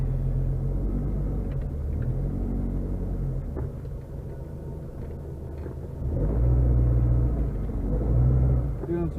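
A car being test-driven around town rolls over bumps, its low engine rumble and road noise steady inside the cabin, with heavier thumping surges near the end.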